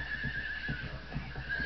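A horse neighs faintly in the History Explorer video game during a chariot racing scene, with soft rhythmic hoof clops beneath a thin, sustained whinny.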